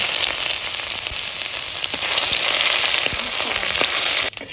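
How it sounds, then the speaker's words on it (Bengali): Bay leaf, Bengali five-spice and ginger tempering in hot oil, a loud dense continuous sizzle with light crackles and occasional stir taps, cutting off abruptly at the end, no speech. "এবার আমি তেজপাতাটা ফোড়ন দিয়ে দিচ্ছি এইবার পাঁচ ফোড়নটা ফোড়ন দিয়ে দিচ্ছি আদাটা ফোড়ন দিয়ে দিচ্ছি"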